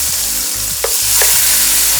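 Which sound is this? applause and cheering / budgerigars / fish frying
fish frying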